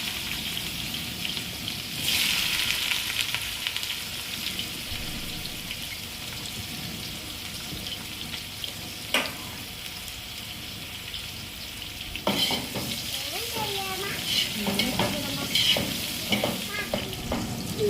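Sliced onions fry in oil in a pan for Andhra-style chicken masala fry, a continuous close sizzle with scraping stirs and clinks of the spatula throughout.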